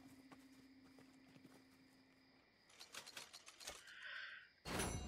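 Hooves clip-clop at a steady walking pace over a synthetic soundscape in Red Dead Redemption 2, ending in a sudden loud burst of noise.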